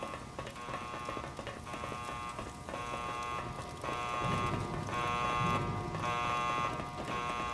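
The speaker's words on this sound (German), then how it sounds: "de verdammte alarm" Repeating electronic alarm blaring in the video game Sniper: Ghost Warrior, a steady buzzing tone pulsing in regular bursts over game background noise, loud and continuous throughout.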